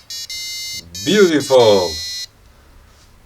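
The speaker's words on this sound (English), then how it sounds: "when I press the button, it plays a sound on the buzzer." An Arduino expansion board buzzer plays the Darth Vader theme as a shrill electronic beeping tune, with a short note then a longer sustained one, loud and close; a person speaks over the middle of it.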